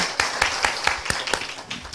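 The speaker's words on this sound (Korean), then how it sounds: "박수" A church congregation claps together during a Korean sermon, a steady, fairly loud run of quick claps in a regular rhythm filling the hall.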